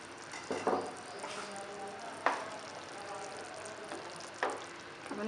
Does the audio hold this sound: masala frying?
yes